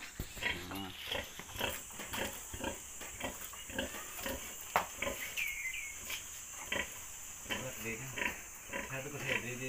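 A sow and her newborn piglets, a litter of fourteen, grunt and squeal on a farm in repeated short bursts, mixed with people talking nearby.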